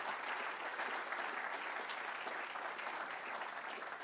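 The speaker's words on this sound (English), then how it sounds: "Can we give these two a round of applause for sharing about their experience?" A crowd in a convocation hall applauds two presenters, a dense, continuous wash of many hands clapping together at steady volume without a break, with no talk over it.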